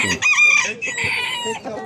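An Indian breed rooster crows loudly and close at a busy Istanbul poultry market, one long harsh call with a second strained phrase, other birds faint behind.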